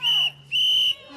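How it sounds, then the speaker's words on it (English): Community members sound whistles to warn that ICE agents are nearby, with two long, loud, shrill blasts in quick succession, each held for about a quarter second, over a steady low hum. "The whistles are a new community tactic to alert people that ICE agents are in the area."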